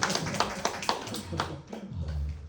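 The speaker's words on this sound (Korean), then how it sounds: "격려의 박수 한번 주시죠" Congregation giving a short round of encouraging applause during a Wednesday church service, scattered claps in the first half fading as a voice comes in.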